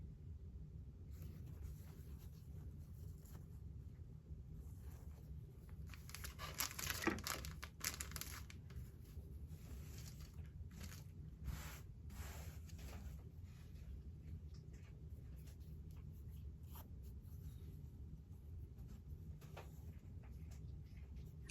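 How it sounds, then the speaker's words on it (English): Small fabric scraps are pulled from a bucket and laid onto fusible interfacing, making faint, sparse crinkles and soft rustles over a low steady rumble, with a slightly busier patch of handling partway through. "I'm just going to start pulling little pieces out of the bucket and lay them on this fusible interfacing"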